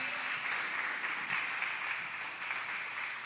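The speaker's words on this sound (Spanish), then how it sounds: "¿Cuántos dan un fuerte aplauso al Señor para exaltarle?" Applause from a Spanish-speaking church congregation at a Friday worship service, clapping to exalt the Lord, forms a soft, continuous wash of many hands, heard at a distance and fairly faint but steady throughout.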